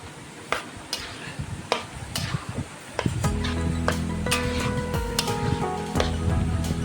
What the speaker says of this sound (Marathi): इथे मी सोयाबीन ऍड करते, जे आपण मॅरिनेट करायला ठेवले होते ते। आता मी इथे मिक्स करून घेणार आहे एकदा।